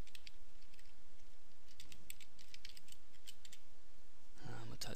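A password is typed on a computer keyboard during email account setup, a quick run of light, close key clicks in short bursts with a louder clatter at the end, over low room noise.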